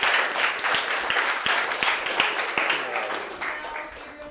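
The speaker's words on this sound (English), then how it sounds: "After we clap for David." A small audience claps at a pitch event, a scattered burst of individual hand claps that gradually thins and fades over a few seconds.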